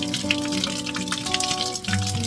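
A washing machine debris filter being rinsed under a running tap, a steady gushing splash of water with a faint tonal hum underneath, close and continuous, no talking.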